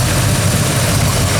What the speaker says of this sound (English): Really has a nice quiet idle.